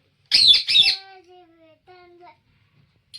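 A parrot lets out two harsh, raspy squawks, then a few thin whistled and talking-like tones, close by and otherwise quiet.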